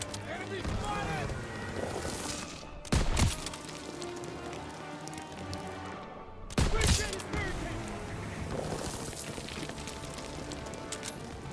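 Machine gun fire rattles through a Call of Duty WW2 battle, a constant din of distant shots punctuated by two loud, close bursts a few seconds apart.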